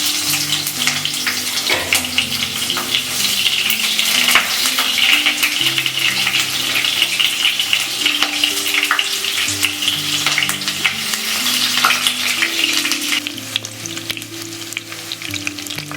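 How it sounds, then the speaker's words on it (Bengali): Onion frying in hot oil makes a steady close sizzle and crackle for the whole stretch, with soft stirring scrapes over it and faint background tones. "পেঁয়াজটা মোটামুটি হালকা ভাজা হয়ে গেছে"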